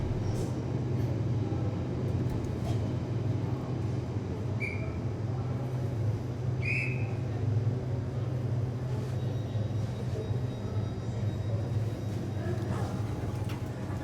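A train running on the Great Western Main Line between London Paddington and Bristol Temple Meads, a steady low rumble and rolling drone held throughout, with a couple of brief high squeals from the wheels or rails.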